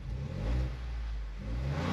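A Ford Bronco engine, with a Banks throttle pedal unit fitted, revs steadily as the throttle pedal is pressed: a close, mid-pitched engine drone that swells briefly, eases, then rises again.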